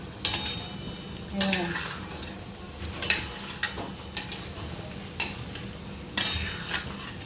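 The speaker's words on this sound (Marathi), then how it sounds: "अशा प्रकारे ढवळत राहायचे आपल्याला बारीक गॅस ठेवून" Shankarpali frying in a pan over low gas, stirred with repeated metal scrapes and clinks in an irregular rhythm over a soft, steady sizzle.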